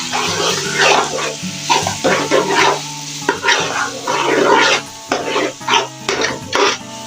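Ginger and garlic frying in a pan while being stirred, a close, continuous sizzle broken by repeated scraping strokes of the spoon in an uneven rhythm, with no talking.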